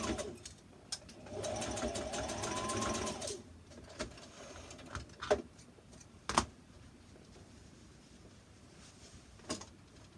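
A sewing machine runs in one fast burst of stitching on a red zip-front jumpsuit, then stops, followed by scattered clicks and knocks, close and moderately quiet without talk.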